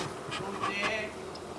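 Honey bees buzz around an open Langstroth hive during a queen release, a faint, close hum with a few louder passes as individual bees fly near.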